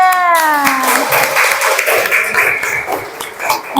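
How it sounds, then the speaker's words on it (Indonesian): Children and their teacher clap hands together in a classroom, a burst of lively, loud overlapping claps that follows a short sliding tone and keeps going to the end. "kalau sudah selesai kita tepuk tangan semuanya."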